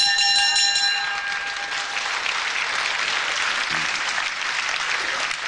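A boxing crowd applauding the fighters after a bout, dense sustained clapping and cheering from an arena audience, with a bell-like ringing tone fading over the first couple of seconds.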